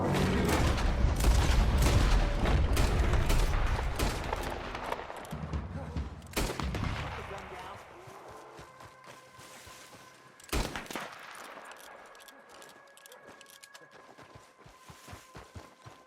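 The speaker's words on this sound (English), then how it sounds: "Arthur! Shoot that thing, please!" Rapid bursts of gunfire crackle and boom in Red Dead Redemption during a hunt for a legendary grizzly bear, dense at first and then thinning into scattered, isolated shots, with voices briefly audible.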